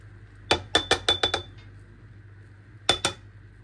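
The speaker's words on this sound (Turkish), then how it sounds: "antep fıstığını komple dökün diyor" Pistachios tipped into a pot of helva make a quick run of bright, hard clinks against the pot, then a short pause and one more pair of clinks, all close and clear with no talking.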